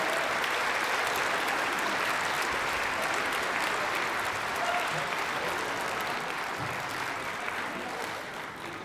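A school band concert audience gives sustained, dense applause, many hands clapping steadily for the whole stretch in a large room, with faint crowd murmur beneath and the clapping easing slightly at the end.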